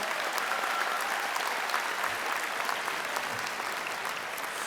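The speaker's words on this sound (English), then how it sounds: "Give yourselves a big round of applause for that." Graduates at a University of Calgary fall convocation ceremony applaud themselves, a full, even roar of many hands clapping that carries steadily from start to finish.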